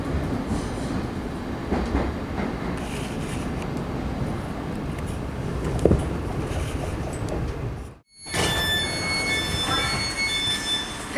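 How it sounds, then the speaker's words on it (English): A modern Class 717 electric train runs through London tunnels, giving a steady rumbling roll with faint rail clatter, then a brief cut before a high, squealing stretch of running. "The Class 717 is a pretty modern train though."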